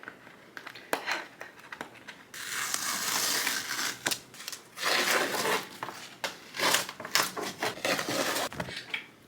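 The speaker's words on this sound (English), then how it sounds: "all you need to do is peel the tape off." Tape is peeled off fabric in several close bursts of crackling, tearing rustle, with short pauses and irregular clicks between the pulls and no talk.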